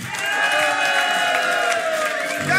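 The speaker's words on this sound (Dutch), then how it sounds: "groot applaus voor de presentatieduo Keizer en Van der Brink." A TV studio audience applauding and cheering steadily throughout, a dense wash of clapping with occasional whoops, fairly loud and close.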